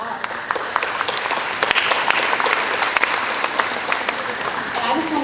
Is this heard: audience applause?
yes